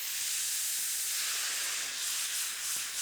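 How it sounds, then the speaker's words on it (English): Steam hissing strongly as white wine and vinegar deglaze a hot pan of turkey meatballs, a continuous bright sizzle heard close up. "And just that steam is going to help cook the meatballs all the way through."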